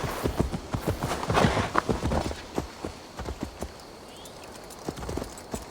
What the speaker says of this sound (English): Meanwhile, we'll call our horse.